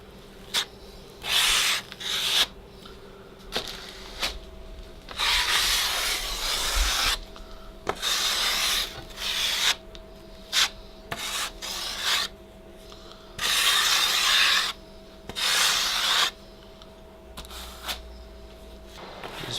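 A skim coat is applied over a patch on a wall, heard as repeated scraping, rasping strokes of a trowel or knife in irregular bursts with short pauses, close and fairly loud.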